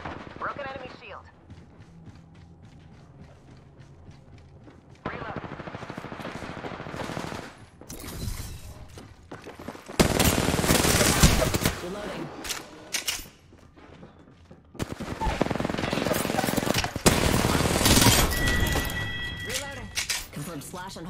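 Bursts of automatic gunfire from the battle royale game Apex Legends crackle in dense rapid volleys, loud and close, with quieter stretches of game sound and voice chat in between.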